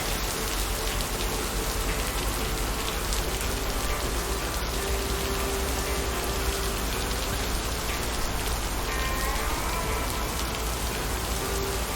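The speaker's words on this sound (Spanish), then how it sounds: "Pero muy bien efecto de lluvia." Steady heavy rain in a video game patters on surfaces throughout, a dense even hiss of drops with no voices.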